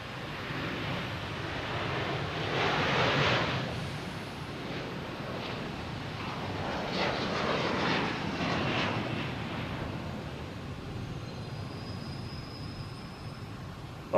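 A Swiss Air airliner at Boston Logan Airport, a broad, distant jet roar that swells and fades in waves over a steady outdoor background.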